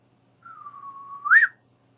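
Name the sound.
person imitating a whistling sound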